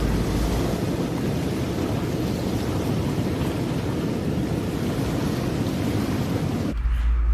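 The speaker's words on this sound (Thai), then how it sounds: "ฟังเสียงคลื่นน้ำพัดกระทบฝั่ง" Water waves lapping against the shore of the Nong Wai reservoir dam in Nam Phong, Khon Kaen, under shady trees, heard as a steady, loud, continuous wash with a rumbling low end that cuts off abruptly near the end.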